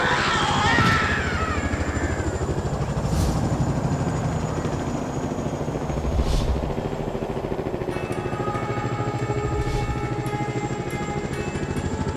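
A helicopter drones loudly and steadily overhead, its rotor and engine roar continuous throughout with a few brief sharper noises mixed in.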